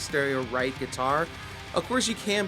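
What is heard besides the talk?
No distinct noise like a dog, phone or traffic.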